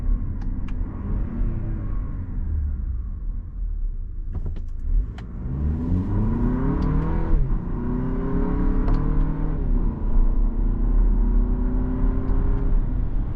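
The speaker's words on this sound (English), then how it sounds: "But it gets the vehicle up to speed." A 2025 Lexus NX 350 Premium crossover accelerates in sport mode, its engine note climbing through several upshifts in a loud, steady rumble heard from inside the cabin, with no talking.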